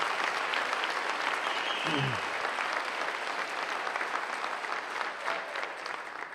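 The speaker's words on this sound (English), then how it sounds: "We can give a round of applause for that one right there" Applause from the audience at a school sports awards ceremony, a dense and sustained round of clapping that stays loud throughout, with a brief voice or whistle partway through.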